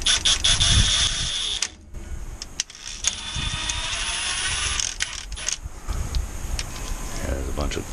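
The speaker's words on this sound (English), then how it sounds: "then you just run it into that hole and then it'll clean the threads out for you." Quick metallic ratcheting of a hand tool driving a thread-cleaning tap into a bolt hole, repeated bursts at close range with brief pauses, mixed with clicks and some mechanical clatter.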